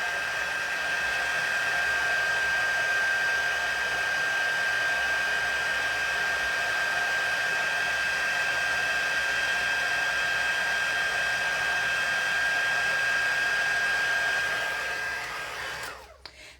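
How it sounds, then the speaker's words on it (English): An embossing heat tool blows hot air in a steady, close whir that sounds like a hair dryer, running without a break and then switching off at the end. "Heating up my embossing tool."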